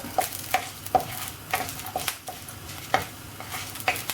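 Dry scraping and stirring as spices roast in a pan, with repeated rhythmic clatters of a utensil against metal over a faint sizzle.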